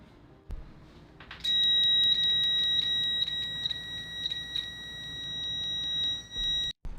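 Continuity-test beep from an ANENG M118A multimeter with Probe Master probes: a loud, steady high-pitched tone held for about five seconds, stopping abruptly, with a faint click just before it starts.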